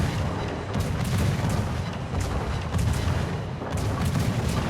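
Heavy warship guns firing in a naval battle video game: a series of deep, booming salvos that follow one another closely and roll under a constant rumbling battle background.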